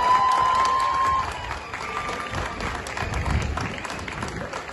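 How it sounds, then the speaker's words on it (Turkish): A crowd at a student festival gathering breaks into brief applause and scattered cheers, the clapping fading within a couple of seconds into a murmur of voices and thumps. "Buradan oraya bir alkış, bir destek gönderebilir miyiz arkadaşlar?"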